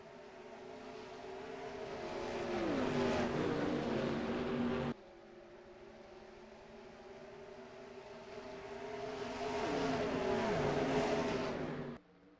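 Race cars lapping Homestead in a racing video game, engine drones rising and falling in pitch as they pass, two sustained waves of steady mechanical roar with a sharp cut between them.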